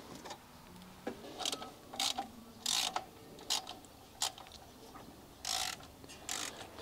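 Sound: ratchet undoing engine header bolts

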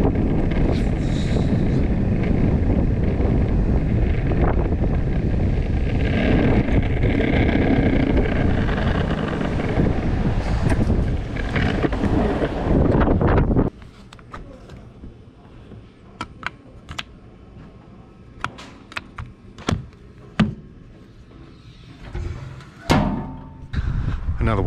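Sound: wind blowing while riding uphill

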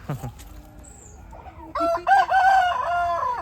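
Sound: chickens clucking and crowing

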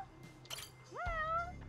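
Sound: cat meowing in the video game Judgment

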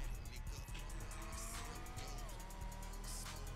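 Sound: Banshee car accelerating on highway, GTA Online video game

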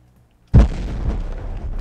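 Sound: explosion in video game Gun Monkeys

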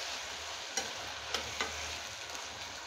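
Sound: stirring cluster beans (guvar) in a pressure cooker

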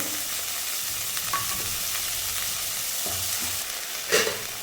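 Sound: roasting cooked horse gram in a pan

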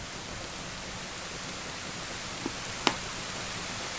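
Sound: rain in the video game Zelda: Ocarina of Time

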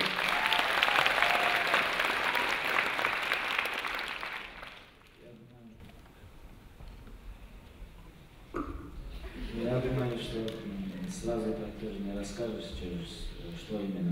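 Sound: audience applause

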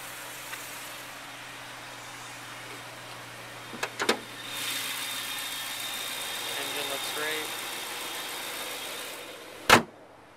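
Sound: 2008 BMW M3 sedan engine starting and idling

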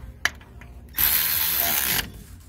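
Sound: tightening differential cover bolts to 33 foot-pounds

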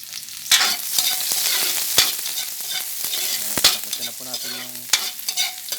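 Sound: sautéing onion in a pan

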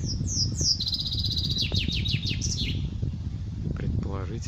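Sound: nightingale singing in a city park

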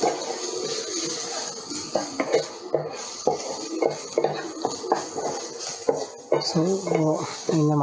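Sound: stirring masala mix in a pan

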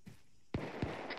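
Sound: gunfire in video game Arma 3

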